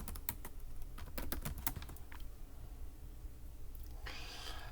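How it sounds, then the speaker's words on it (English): Fingers type quickly on a computer keyboard, a close run of crisp clicking keystrokes in short bursts with brief pauses, followed by a soft breathy rustle at the end. "let's just type it in"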